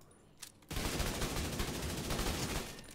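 Rapid automatic gunfire from the Striker rifle in the video game The Division 2, a dense, loud, continuous burst of shots that starts abruptly after a brief quiet moment and holds steady to the end.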